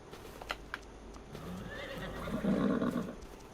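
Close clip-clop of horse hooves in Farming Simulator 25, followed by a loud horse whinny rising and falling, with no talking.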